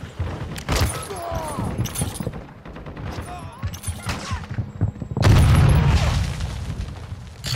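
Grenade blast in Call of Duty: Modern Warfare II, a heavy deep boom erupting after scattered gunfire and game effects, loud and close, with rumbling debris trailing off; voices speak briefly in between.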